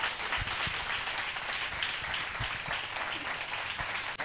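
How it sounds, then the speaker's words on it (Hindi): Sustained applause from a church congregation as guests walk up to the stage at a Faith Of Life Ministries service, thick crowd clapping with a few sharper nearby claps standing out. "और जोर से, जब तक वो स्टेज पे नहीं आते ताली बजाओ।"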